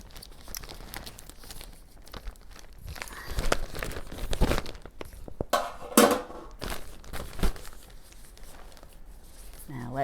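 A compostable plastic mailing bag is cut and torn open, close-up crinkling, rustling and tearing in uneven bursts with one sharp rip near the middle, while a person talks throughout.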